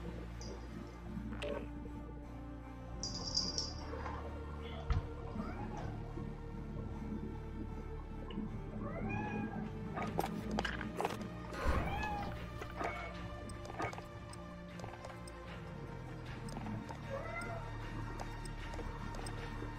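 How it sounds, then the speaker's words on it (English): A pet cat meows repeatedly at close range over several seconds, short rising and falling cries scattered through a steady indoor hum with faint background noise. "My kitty cat."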